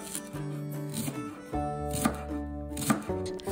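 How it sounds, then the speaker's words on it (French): Shallots chopped with a knife on a cutting board for Taiwanese braised pork, a run of quick, close, rhythmic blade taps that speed up toward the end, with no talk. "Coupez ensuite les échalotes"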